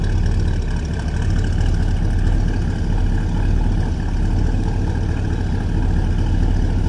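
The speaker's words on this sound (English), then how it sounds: "A little rumble coming out of that V8." The 350 V8 of a 1971 Pontiac LeMans Sport convertible idles with a deep, steady exhaust rumble, close and continuous with no talk.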